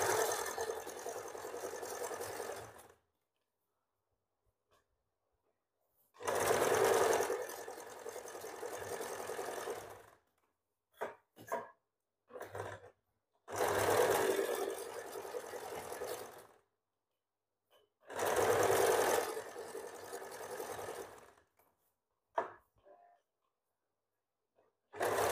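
A sewing machine stitches blouse fabric in four separate runs of a few seconds each, with full silences between bursts, fairly loud and close with no voices.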